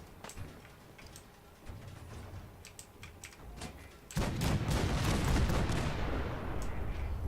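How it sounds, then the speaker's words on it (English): Cannons fire in the Fallout video game, a burst of loud booming blasts starting midway and rolling on, after a quieter stretch of scattered sharp clicks and small impacts. "So, you can fire the cannons."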